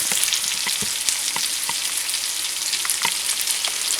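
Salmon frying in a pan, a steady close sizzle with scattered crackles and pops throughout, no talk.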